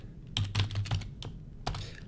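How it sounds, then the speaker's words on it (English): Typing on a computer keyboard with irregular bursts of key clicks, close and fairly quiet, with no talking. "let's type it out"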